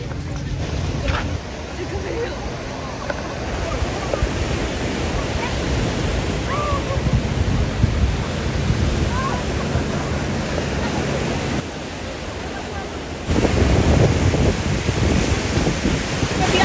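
Ocean surf washing onto the beach at San Felipe, Baja California, a steady broad roar with wind buffeting the microphone, louder swells near the end, and voices talking faintly over it.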